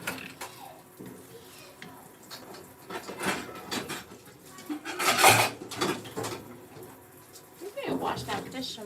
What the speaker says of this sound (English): So we're gonna go and rinse these stuff out right now.